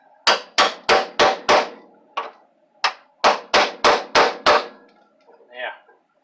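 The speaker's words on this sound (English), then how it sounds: "Got my hammer. Drive it down behind where the spot weld is." Hammer blows on a badly rusted, spot-welded 1984 Mustang floor pan ring out as sharp metallic strikes, a rapid run of five, a few scattered hits, then another quick burst of five, loud and close.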